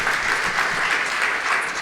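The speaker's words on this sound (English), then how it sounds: "applause for that" Audience applause at a philanthropy meeting in Minnesota, a loud, steady wash of many hands clapping together without pause.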